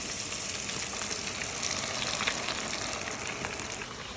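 Onions fry in Arabic ghee (samn), a steady, faint hiss and crackle of sizzling fat that carries on without a break and without any voices.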